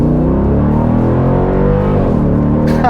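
A Dodge Durango R/T 392 V8 SUV accelerating on the street under light throttle: a steady, loud, deep engine note with rising harmonics, heard alone with no talking.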